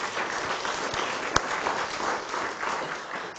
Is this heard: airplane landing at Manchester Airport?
no